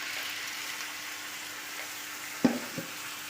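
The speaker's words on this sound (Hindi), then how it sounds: "माशाल्लाह से मैंने सॉस डाल दी है। अब ये सॉस के साथ कुक होंगे।" Soft, steady sizzle of chicken pieces cooking in sauce on a tawa, with a brief clatter of a spoon or utensil near the end.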